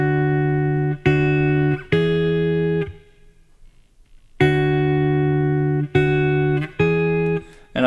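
Electric guitar plays the second measure of a song as repeated clean sustained chords, struck in short groups with a silent gap between phrases, close and clear with no talking.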